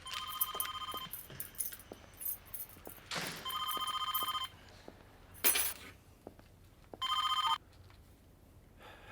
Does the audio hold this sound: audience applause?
no